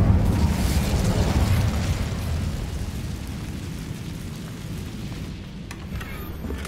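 A sustained roaring, crackling burst from an Incendio fire spell cast in Hogwarts Legacy. It starts loud and close, then slowly fades into a steady rumble.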